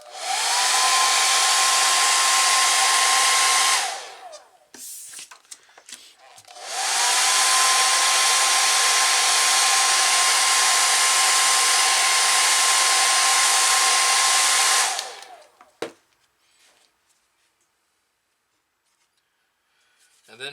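A hair dryer blows on wet paint in two long, loud, steady roaring runs, each stopping with a brief winding-down whine, separated by quiet handling noises and followed by near silence.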